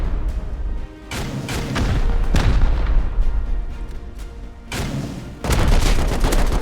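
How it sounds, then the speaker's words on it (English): Rocket explosions boom one after another in a Rust base raid, with several heavy, loud blasts and rumbling debris spread across the stretch and no talking. "here comes the rockets"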